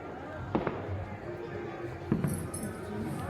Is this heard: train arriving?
no